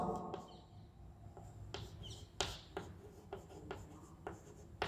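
A pen scratches across paper while writing out a notice, a series of short rubbing strokes in irregular rhythm, close and quiet with no talk over it.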